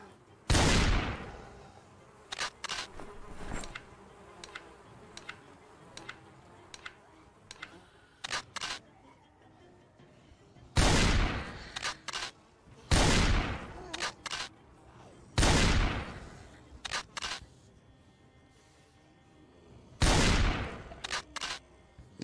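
Gunfire in the zombie survival game Project Zomboid, a series of sharp, loud single shots spaced irregularly several seconds apart, with quieter clicks and handling noises between them.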